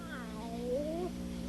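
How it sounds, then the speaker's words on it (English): A cat meows in a short rising-and-falling call, close and clear over a steady low hum, in an old 1970 witch-themed children's show. "Why, it's a cat."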